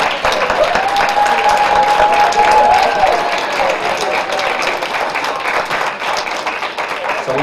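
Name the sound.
audience applause for panelists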